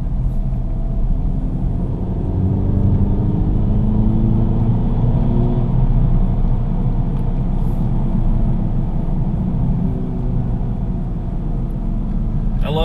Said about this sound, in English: I love how with this car the turbos spool up